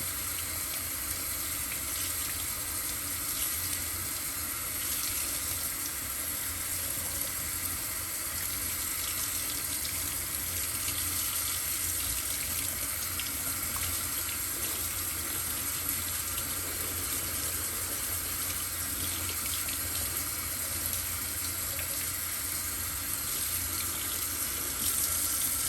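Cold tap water runs into a sink in a steady, unbroken stream while quinoa is being rinsed, close and constant throughout, with no talking.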